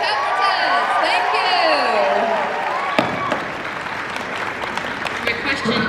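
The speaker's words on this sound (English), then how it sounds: "Everybody applaud the interpreters." Audience applause at a fan convention panel, a steady crowd clapping for the interpreters, loud and close, with voices and a few cheers mixed in and fading toward the end.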